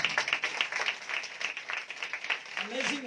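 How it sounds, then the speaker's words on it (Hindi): An audience at a Sunday church meeting claps loudly in a dense, rapid patter of many hands, with a voice rising over the clapping near the end. "अपने यीशु की मोहब्बत के लिए जोरदार तालियां।"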